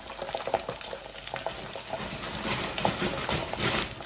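Sweet fish frying in a pan, a dense crackling sizzle with irregular pops and spatters, close and steady throughout.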